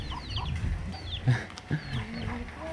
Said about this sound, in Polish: O, tu widzimy kury